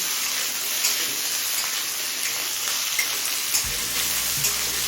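Diced potato and carrot frying in a pan over a medium flame, a steady, dense sizzle with light crackles throughout and no voices.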